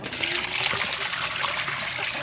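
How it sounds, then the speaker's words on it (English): Tap water runs steadily into a pot being washed, a close, constant rushing trickle with light splashing throughout and no talking. "Now I gotta wash it."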